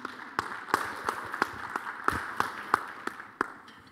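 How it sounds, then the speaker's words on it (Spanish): A small audience at a talk on preventing doctor-patient conflicts applauds a speaker: a few sparse, fairly faint claps spaced out over several seconds, with no talking. "pido un aplauso para él, por favor"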